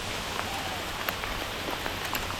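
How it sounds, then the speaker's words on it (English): Heavy but small hail comes down during a bikepacking ride on the EV6 route between Vienna and Passau, a dense continuous patter of tiny impacts with scattered louder ticks, no talking. "The hail is quite heavy, but it's quite small."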